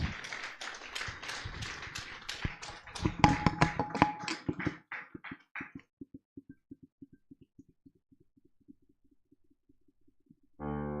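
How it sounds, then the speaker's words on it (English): Crowd at a Niger Delta development program launch gives a round of applause that builds to a dense burst, then thins to scattered, slowing single claps before a short noise at the end. "Please, another round of applause for the country director, Ifad, Mrs. Dedekwe."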